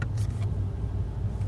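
Car creeping slowly through heavy traffic, heard from inside as a steady low engine and road rumble with a few faint light clicks.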